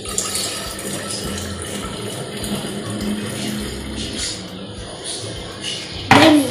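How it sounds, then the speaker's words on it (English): Water is poured steadily into a jug of unmixed juice to make ice pops, a continuous close splashing rush with a brief louder clatter near the end. "And then you mix it with water."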